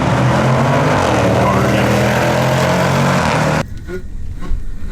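A Jeep Grand Cherokee Trackhawk launches at a drag strip, its engine roaring loud and steady with wheel hop, then cutting off abruptly near the end, leaving quieter background noise.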